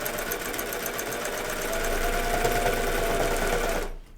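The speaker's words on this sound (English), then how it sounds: "I'm going to stretch the elastic while I sew it" A sewing machine stitches elastic onto a pair of pants, its motor running in a steady whirring drone that picks up speed partway through before stopping abruptly at the end.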